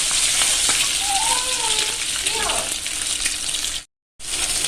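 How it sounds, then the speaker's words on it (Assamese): Eggs frying in oil, with a loud, dense, continuous sizzle close by, a faint voice-like tone in the middle and a short cut to silence near the end. "ডিম তিনিটা ফ্ৰাই কৰি লওঁ"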